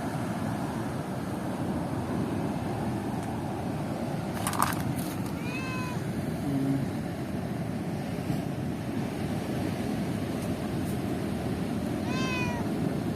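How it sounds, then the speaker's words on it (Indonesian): A cat meows a few times on a beach in Garut, Indonesia, the short rising cries standing clearly above a constant wash of surf and wind. "Ada kucing. Kucing."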